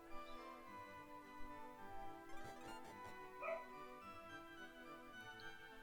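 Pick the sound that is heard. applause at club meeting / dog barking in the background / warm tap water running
dog barking in the background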